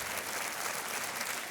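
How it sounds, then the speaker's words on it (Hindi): Studio audience on a TV quiz show claps continuously, a thick, even wash of applause from a full room with no talk on top. "और तालियां बजती रहनी चाहिए।"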